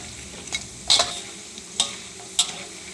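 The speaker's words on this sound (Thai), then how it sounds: "เจียวครั้งที่สองใช้ไฟแรงหน่อยนะคะ" Pork rinds deep-frying a second time in oil over high heat, a steady close sizzle broken by several sharp scraping clinks of a utensil stirring the pan.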